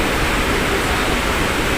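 A natural waterfall beside a swimming pool roars in a steady, dense wash of noise, close and loud, with no variation and no voices.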